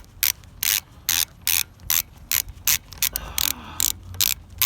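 A ratchet unscrews a front brake bolt on a 2014 Harley-Davidson Sportster SuperLow, clicking close and loud in a regular rhythm of short bursts, about twelve strokes in a row.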